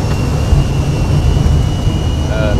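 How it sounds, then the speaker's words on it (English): Boeing 737 jet engines set to takeoff thrust on a Singapore to Subang flight, heard from the cockpit as a loud, continuous roar with a thin steady whine across it. "Then take off thrust."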